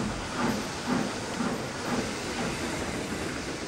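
A steam locomotive pulling a train chuffs in a steady rhythm of regular puffs over a constant hiss of steam, sounding close and continuous.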